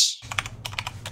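Quick keystrokes clatter on a computer keyboard as someone types at the end of a document, in close, uneven bursts of clicks over a low steady hum.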